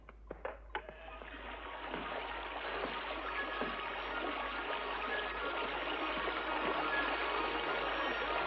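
Water rushing out after a sluice gate opens, a few knocks at first, then a steady broad gushing and splashing that builds and keeps flowing strongly.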